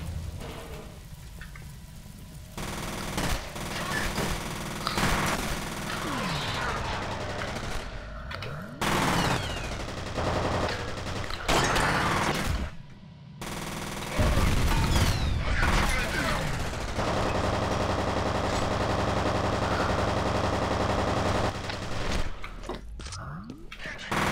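Rapid automatic gunfire from soldiers in the F.E.A.R. shooter game, loud, dense bursts rattling almost continuously with brief gaps, over a busy backdrop of game effects.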